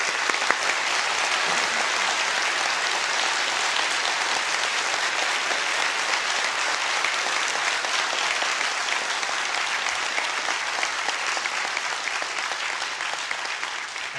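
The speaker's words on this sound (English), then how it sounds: "We can applaud Mr. Ham's presentation." Sustained audience applause fills a large hall after a debate presentation, a dense, even wash of clapping that holds steady for about fourteen seconds with no voices standing out.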